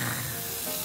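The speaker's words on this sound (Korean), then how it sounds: "그 기름에 약간 튀기듯이 구워줘야 돼요" Steak searing in olive oil in a hot pan gives a steady, loud, close sizzling hiss that fills the whole moment without a break.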